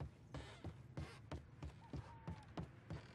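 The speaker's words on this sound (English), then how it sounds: "do like the sound of the stairs creaking" Repeated creaky footfalls on wooden stairs in the video game Mafia III, about ten evenly paced steps with thumps and a brief squeak, over a low ambient hum.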